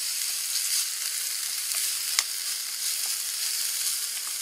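Food sizzles steadily in a coated non-stick frying pan outdoors in the woods, a constant bright hiss with faint crackles and one sharp pop, close and alone without any voices.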